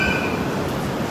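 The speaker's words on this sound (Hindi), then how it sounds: "गाइज़, ये इनका एक मेट्रो स्टेशन है, मेज़माइन इसका नाम है, और हम लोग इस पर पहुँच गए।" A metro train rumbles loudly through a Baku metro station platform, a dense steady roar of wheels and carriages filling the space up close with no pauses.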